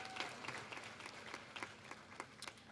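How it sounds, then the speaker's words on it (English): Audience at the University of the Virgin Islands sixtieth commencement applauding graduates, a steady spatter of claps that stays fairly faint and distant for the whole stretch, with no voices over it. "So you should be applauded"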